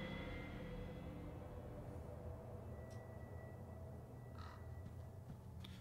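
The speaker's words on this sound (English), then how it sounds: "Oh, I see the Raven." A raven caws in the Call of Cthulhu video game, a few short calls rising over a steady low rumble of ambient background noise, fairly faint.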